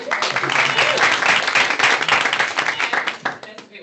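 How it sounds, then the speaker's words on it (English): Warm applause from a small crowd, dense clapping that holds steady for a few seconds before thinning out at the end. "The clapping."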